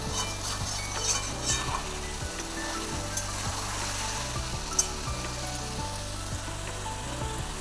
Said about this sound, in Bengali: আর খুব ভালো করে চিকেনটাকে কষাচ্ছি